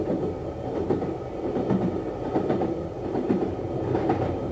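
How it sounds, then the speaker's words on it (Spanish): A train running on rails, its steady rolling rumble carrying rhythmic clickety-clack of wheels over track joints, close and fairly loud throughout with no voices. "los trenes empezaron a transportar prisioneros al Gulag"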